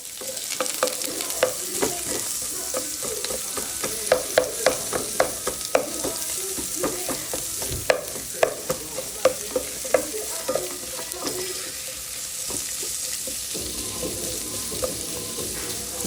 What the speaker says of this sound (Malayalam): വെളിച്ചെണ്ണ ചൂടായാൽ അതിലേക്ക് നമുക്ക് ഈ കട്ട് ചെയ്ത സവാള ഒന്ന് ഇട്ട് കൊടുക്കാം.